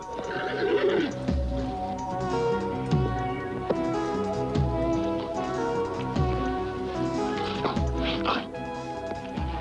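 A horse whinnies over a busy layer of music with thudding beats, the neigh prominent near the start and again later.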